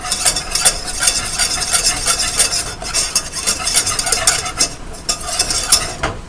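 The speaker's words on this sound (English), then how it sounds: "Okay, stir it up some more." Spoon scraping and stirring a flour-and-fat roux in a pan, a busy continuous clatter of bright scrapes and soft sizzle with no one talking.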